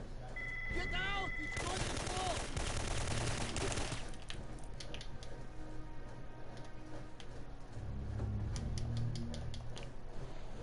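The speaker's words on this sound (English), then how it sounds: "Now we can set the cache off." Weapons cache going off in Syphon Filter 3, a dense burst of rapid gunfire and crackling explosions followed by continued popping and rumbling blasts over several seconds, loud and sustained.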